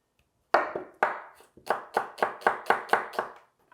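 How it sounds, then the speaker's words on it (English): A kitchen knife julienning a red onion on a cutting board, about ten crisp, evenly spaced chops that quicken slightly as they go, close and clear with no talk. "Got a red onion. We're going to julienne this."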